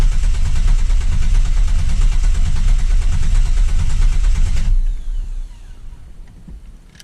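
Camaro 3.8L V6 with no oil pressure, running loud and rough with a dense steady drone that cuts off abruptly near the end, leaving a faint fading hum.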